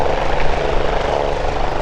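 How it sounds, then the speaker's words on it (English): An Arch Air Medical Services helicopter stationed at a crime scene gives a loud, steady rotor and engine roar that fills the whole stretch without letup. "An Arch Air Medical Services helicopter was stationed at the scene for several hours"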